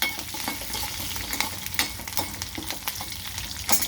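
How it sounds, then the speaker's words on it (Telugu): A tempering with ginger fries lightly in a little oil for curd rice: a steady close sizzle broken by repeated stirring scrapes and taps, with no voices. "కొంచెం లైట్గా వేగనియాలండి"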